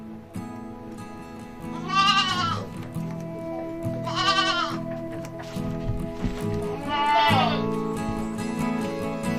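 Goats in a farm pen give three loud, drawn-out bleats a couple of seconds apart, close by, over a low background murmur of people talking.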